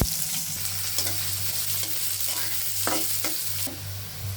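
Chopped onion and dried red chillies frying in hot oil in a wok for a meat and potato curry, a steady near sizzle with a low hum beneath and occasional scraping stirs; no talking.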